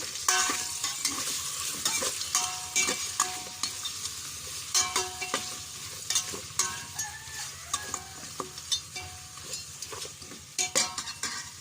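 Pork frying in a pan for biryani-style ribs, stirred with a utensil: a steady sizzle with repeated scraping and clanking strokes, close and clear, with no talking.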